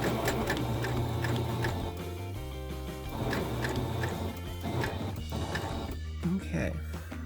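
A sewing machine stitches faux fur in short bursts of rapid mechanical chatter separated by brief pauses, close and fairly loud, while a person talks over it.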